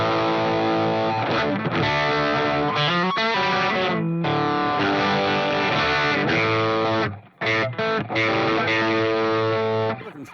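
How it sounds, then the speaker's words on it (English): Electric guitar with a single-coil pickup played through an overdrive pedal, loud distorted chords ringing in bursts with brief gaps between phrases, no talk. "Let me see what it sounds like on the telly with just a single coil."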